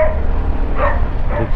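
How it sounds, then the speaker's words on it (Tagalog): A dog, a black chow-chow loose outdoors near a damp court after a storm, gives short yips and barks in a couple of bursts around the middle and end, fairly close, over steady background noise. "Uy, ganda ng aso, nakawala."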